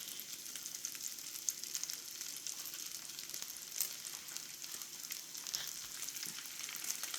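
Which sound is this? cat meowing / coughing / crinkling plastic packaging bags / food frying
food frying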